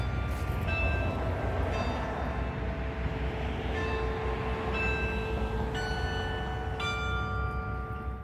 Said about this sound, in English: Every hour on the hour, the Glockenspiel Tower, it rings its bells.